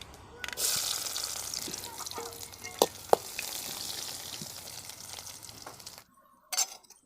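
Mustard seeds and shallots hit hot coconut oil for a tamarind chilli dish, giving a sustained loud sizzle and crackle with a few sharp pops and clinks of a utensil, ending in a brief quiet pause before one last burst.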